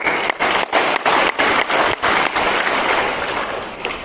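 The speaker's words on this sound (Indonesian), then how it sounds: "Tepuk tangan buat Tuhan." A church congregation claps together, loud and close, the first part landing in a fairly regular beat before it blurs into continuous, rain-like applause that fades slightly at the end.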